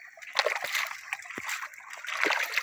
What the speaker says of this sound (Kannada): ಈಗ ಕೋಳಿ ತೊಳಿಬೇಕಲ್ಲ